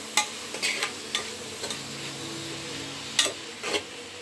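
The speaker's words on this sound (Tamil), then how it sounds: "வெங்காயம் தக்காளி கருவேப்பிலெல்லாம் சேர்த்தாச்சு நல்லா வதங்கட்டுது அப்போ ஹை ஃப்ளேமில் வச்சுக்கலாம்" Onions, tomatoes and curry leaves sautéing in a pan over high flame, a constant low sizzle punctuated by several sharp scraping stirs of a spoon, close by with no voices.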